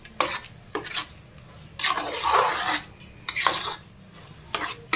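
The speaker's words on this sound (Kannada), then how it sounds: "ಟೊಮೊಟೊ ಹಣ್ಣು ಮೆತ್ತಗಾಗೋವರೆಗೂ ಚೂರು ಫ್ರೈ ಮಾಡ್ತೀನಿ" Tomatoes fry in a pan for soya pulao while a utensil stirs them, giving repeated bursts of scraping and clattering over a soft, continuous sizzle.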